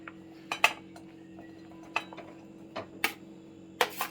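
Medium-sized potatoes dropped into a bowl while cooking a Bengali kachki fish dish, giving several sharp clinks and knocks scattered at uneven intervals, close and fairly quiet, with no talk.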